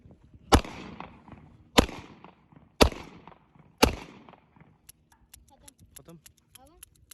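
A small toy cap gun loaded with a tiny firecracker fires four sharp, loud cracks spaced about a second apart, each followed by a brief rattling decay, then faint ticking and clicking noises.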